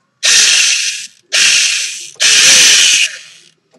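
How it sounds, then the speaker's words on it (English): An airsoft M4 gearbox with a reversal latch clicking against the bevel gear makes three loud, close bursts of rapid ratcheting buzz, each about a second long, separated by short pauses. "you do have a ratchety noise because the reversal latch goes back and forth on the bevel gear."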